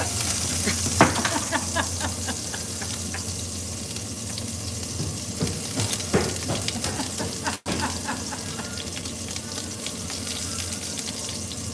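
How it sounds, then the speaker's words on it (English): Fish searing in a pan gives off a loud, constant broadband sizzle and crackle, broken once by a split-second dropout, with no voices. "Another great thing about searing a piece of fish like this"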